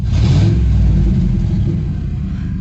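Deep, steady exhaust rumble from a Ford Expedition running with its muffler disconnected, loud and close throughout with a slight swell of revs at the start, no voices.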